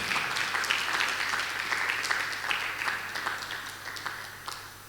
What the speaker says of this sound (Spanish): Dale un aplauso al Señor si lo crees